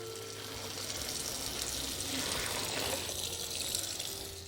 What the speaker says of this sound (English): I've got some very hot water right here in this pot. And I'm gonna pour the hot water in there.